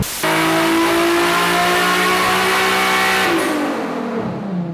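Nissan Silvia with a swapped 1JZ engine running 70% ethanol on a dyno, a loud sustained high-rev pull with a strong harmonic drone, then a sharp drop in pitch as the revs fall away and fade.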